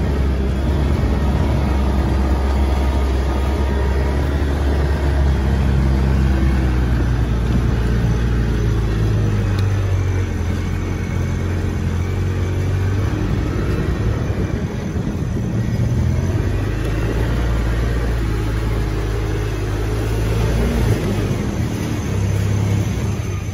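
Tractor engine running steadily with a low, constant rumble throughout, close and fairly loud.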